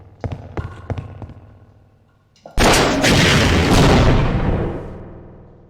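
A rocket explodes in Half-Life: Opposing Force: after a few sharp thuds, a sudden loud blast erupts close by and roars for a couple of seconds before slowly fading.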